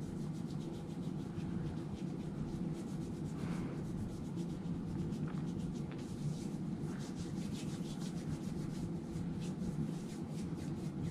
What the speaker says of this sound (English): About one to two pumps for 20 seconds we're going to rub with the proper technique.